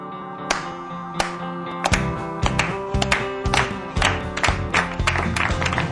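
Applause builds from scattered claps into a rhythmic, fairly close round of clapping over a sustained musical backing.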